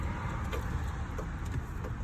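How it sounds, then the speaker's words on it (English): Car tires rolling on a road near Hempstead Lake, a steady, fairly close rushing hiss that holds evenly throughout with no voices. "I heard a noise of a car tires, and I thought it was a car coming down the road"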